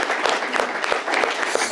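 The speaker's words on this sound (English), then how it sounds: "Let's give her a round of applause." Audience applause after a panel discussion, a short burst of dense clapping from a crowd, fairly close and steady, with a faint voice underneath.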